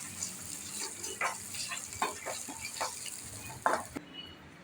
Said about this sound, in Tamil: திராட்சை நல்லா வறுந்துட்டுங்க.